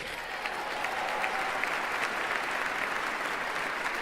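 Sustained crowd applause at a presidential inauguration for Donald Trump, a dense, steady wash of clapping from a large audience that holds at an even level throughout with no voices standing out.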